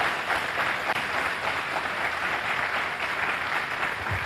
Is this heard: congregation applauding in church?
yes